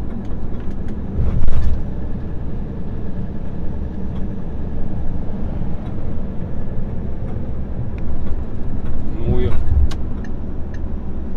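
Road noise from inside a moving car as another vehicle overtakes, a steady loud rumble of tires and engine with a brief swell of passing traffic, and a voice speaking over it.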